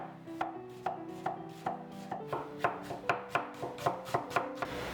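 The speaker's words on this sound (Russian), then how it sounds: "Тонко нарежем перьями," A knife chops an onion into thin strips on a board in a steady, even rhythm of about a dozen crisp strokes, close and alone without any talk.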